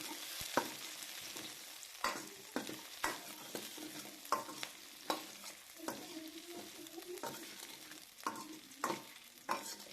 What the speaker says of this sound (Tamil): 2 பல்லு பூண்டு போட்டு அதையும் நல்லா வதக்கணும்.